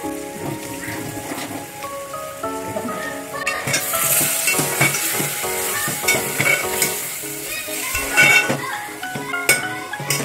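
Squid simmering and sizzling in a pan for a Maharashtrian squid gravy, a continuous crackling sizzle with clinks of utensils against the pot, close and moderately loud, with background music.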